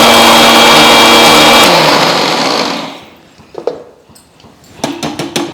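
A kitchen mixer grinder whirs loudly, grinding roasted pickle spice masala for a dried parwal pickle, then winds down after about three seconds, leaving a few clinks and light handling noises.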